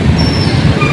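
An MRT-7 elevated train near Commonwealth Market station rumbles loudly and close, with a thin metallic wheel squeal running over the heavy roar.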